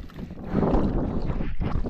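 A boat engine runs at sea on a Pacific fishing trip, a dense rumbling churn mixed with wind buffeting the microphone, close and fairly loud throughout.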